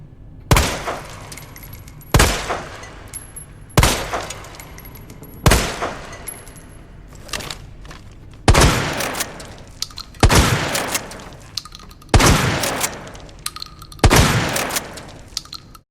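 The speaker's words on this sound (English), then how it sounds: "the shotgun, even when fully upgraded, is nowhere near as cool as the super shotgun from the original" Shotgun blasts from the Resident Evil 2 remake video game, nine sharp booming shots spaced about every one to two seconds, loud and close, each with a short decaying tail and no talking.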